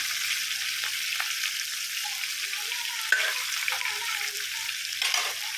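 Fish head pieces for a Hyderabadi-style masala fish fry crackle in hot oil with a loud, continuous sizzle, broken by occasional scraping stirs and a sharp clink partway through.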